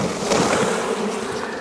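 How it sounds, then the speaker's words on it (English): Bees are shaken off a honey frame from a hive being combined for winter, giving a steady, dense buzzing hum close by and heard alone without talk. "Let me shake these bees off in here."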